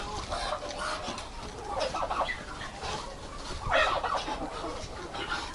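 Turkeys and chickens cluck repeatedly in short bursts, with a couple of louder, closer clucking outbursts over steady barnyard background noise.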